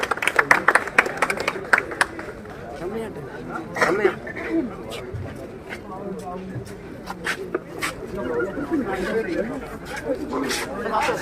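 Scattered clapping for marine cadets at a university marine engineering department event, uneven bursts of claps mixed with crowd chatter and nearby voices.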